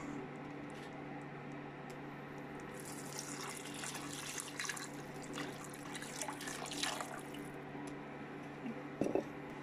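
The remaining water is poured into a pot for a baby's alphabet pasta meal, a steady splashing pour in a kitchen that swells midway and then tapers off, with a few faint drips and clinks near the end.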